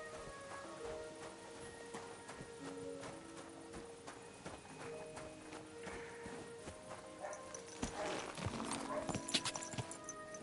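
Horse hooves clip-clop at a walking pace in the medieval game Kingdom Come Deliverance 2, a steady near rhythm over soft ambient music, growing busier and louder toward the end.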